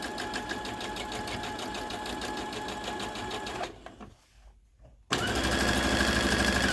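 A sewing machine runs in a steady, loud mechanical whir while stitching fabric to upcycle a duster; the motor stops briefly around four seconds in, leaving near silence, then starts up again at full speed.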